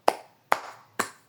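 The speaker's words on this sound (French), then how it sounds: "J'applaudis." A single person claps hands three times at an even, slow pace, each clap sharp, close and alone with a short decay, a sarcastic bravo-style applause.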